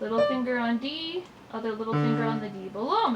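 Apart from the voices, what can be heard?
No distinct noise like a dog, phone or traffic.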